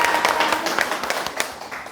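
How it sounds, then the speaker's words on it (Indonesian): A group claps together in a continuous, fairly loud patter for two seconds during a teacher training session on learning media for kindergarten and early childhood education. "Oke, tepuk tangan semuanya."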